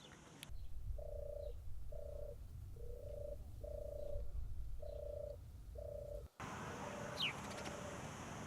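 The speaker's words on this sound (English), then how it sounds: "allowing point blank views of both turtle dove and collared dove" Turtle doves and collared doves feeding at close range in an Ibiza park give a series of about six steady, evenly spaced coos, near and clear, followed by a brief cut to a different outdoor scene.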